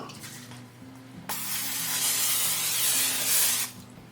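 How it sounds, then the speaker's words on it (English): A steady hiss of aerosol cooking spray into a 9x9 baking dish bursts out for about two seconds, close by, then cuts off, with faint kitchen noise before it. "I'm going to spray it with cooking spray."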